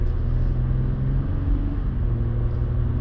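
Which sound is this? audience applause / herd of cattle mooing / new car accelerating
new car accelerating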